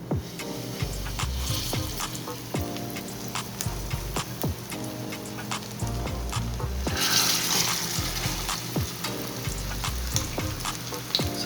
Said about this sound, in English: So we're gonna put the fish to fry.